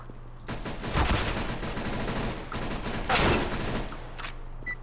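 Automatic gunfire sprays in a shooter video game, with sustained bursts of rapid shots filling the scene, growing louder near the start and again around the three-second mark, then tapering off at the end.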